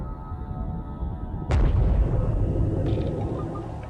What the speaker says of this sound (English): Water pressure triggers the explosion, sending a shockwave ripping through the ocean.